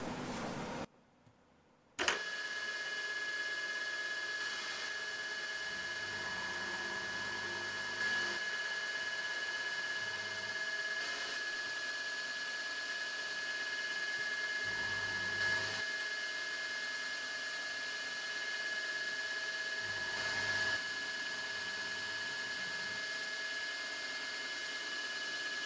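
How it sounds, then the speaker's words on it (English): A milling machine making a full slotting cut for a keyway with an indexable V-groove cutter gives a steady, continuous motor whine with a constant high tone. Low rumbling surges recur every few seconds, and no one speaks. "just do a full slotting cut inwards, then do a finishing pass all the way around."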